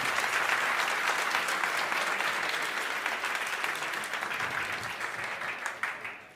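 Applause from a packed live chess event audience in Paris, a dense sustained clatter of clapping that stays loud throughout and eases slightly toward the end.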